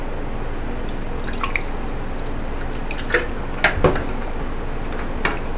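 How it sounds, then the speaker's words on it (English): Water trickles and drips into a shallow seed tray nearby, a steady wash of splashing with a few sharper drops standing out. "So now I'm going to put a little more water in the tray here."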